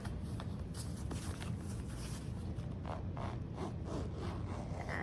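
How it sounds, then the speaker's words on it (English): A zipper on a Beats Solo 3 headphone pouch being opened, a quiet series of scratchy ticks and rasps over a steady low background hum, with no talking. "I don't like zip noises"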